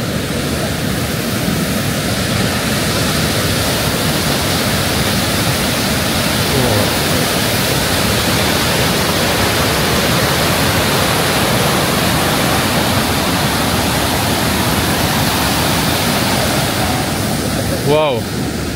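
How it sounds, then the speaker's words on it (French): A waterfall in Japan roars steadily and loudly throughout, a dense broadband rush that barely varies from start to finish. "On est arrivé sur le devant la cascade, c'est super beau."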